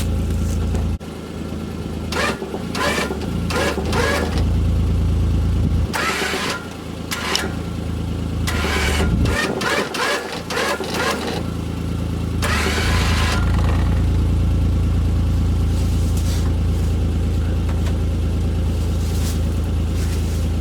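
A Kawasaki Pro FXT Ranch Edition Mule UTV engine runs loud and close, idling with a low rumble and repeatedly revving in short surges as the vehicle pulls forward.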